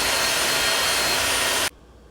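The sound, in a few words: electric hand mixer beating eggs and sugar at high speed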